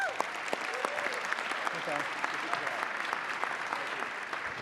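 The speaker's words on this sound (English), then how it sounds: "Let's give a huge round of applause for Mayor Menino" Steady applause from a crowd at a roast dinner, dense clapping throughout with a few scattered voices and whoops mixed in.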